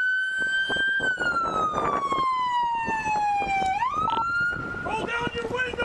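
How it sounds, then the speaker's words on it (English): A police car siren wails close by during a high-risk traffic stop, its pitch gliding slowly down and then rising sharply into a new cycle, loud throughout with some vehicle and background noise beneath. "turn your siren off"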